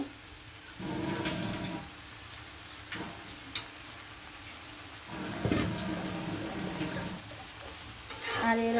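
Fried stinging catfish and their roe going into an onion spice masala: repeated bursts of stirring and sizzling in a pan, close and fairly steady, with brief pauses between strokes and no talking.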